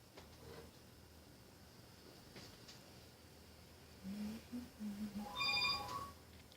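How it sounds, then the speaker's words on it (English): A phone ringing faintly in the background during mint soap making, a short warbling electronic ringtone near the end over a low steady hiss. "The phone is ringing."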